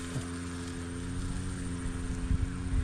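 A grass cutter runs in the distance at the far end of a rice paddy, a steady droning engine hum with faint rises, continuous and without talk.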